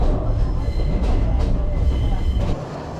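A passenger train runs along Sri Lanka's scenic main line from Kandy through hill-country tea plantations, heard from aboard as a loud continuous rumble and rattle that drops slightly in level near the end.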